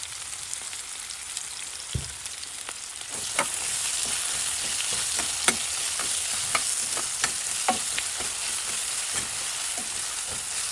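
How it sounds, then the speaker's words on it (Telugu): Onions for a paneer biryani garnish frying in a pan with a pinch of salt, a loud continuous hiss and crackle with scattered sharp pops and occasional stirring scrapes, close and steady throughout, no voices. "ఈ ఆనియన్స్ని గోల్డెన్ బ్రౌన్ వచ్చే వరకు మనం ఫ్రై చేసుకోవాలి"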